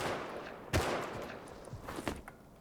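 Gunfire in an online battle-royale shooter game: a sharp, loud shot near the start, then a couple of quieter, more distant reports over steady game ambience. No one speaks.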